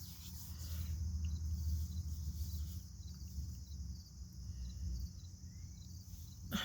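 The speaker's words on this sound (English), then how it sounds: "You hear the crickets?" Crickets chirp continuously in a high, steady trill over a low ambient rumble outdoors in Detroit, Michigan at 8:30 in the morning, with no talking.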